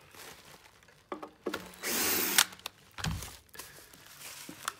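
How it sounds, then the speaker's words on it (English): Screws are undone from the wooden bottom of a Bermuda styling and backwash salon chair, giving a short whirring burst amid scattered knocks and rustles, close by. "You need a Phillips screwdriver, just to undo the two screws that are in the bottom of the wood."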